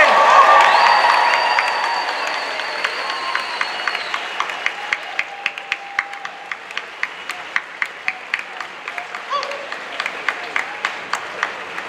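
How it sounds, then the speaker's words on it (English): Crowd applause at a school assembly in a large room, starting loud with some cheering, then settling into scattered rhythmic clapping that fades but continues throughout. "let's at least give them a round of applause"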